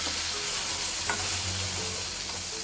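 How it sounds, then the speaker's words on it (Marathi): Tomato pieces sautéing in a hot oil tempering of mustard seeds, asafoetida and turmeric, a steady close sizzle with occasional stirring scrapes and no talk. "टोमॅटो पण चांगला परतून घेऊ"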